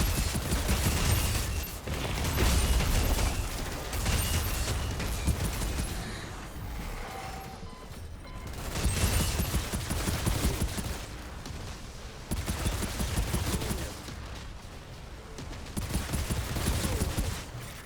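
Rapid bursts of gunfire from the video game Outriders, with pistols in use, come in dense, loud volleys that pause briefly and resume amid chaotic in-game combat noise.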